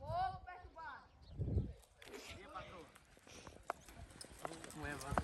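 Horse hooves clip-clop on the ground near a corral amid a loose group of people, uneven steps mixed with frequent overlapping talk and shouts.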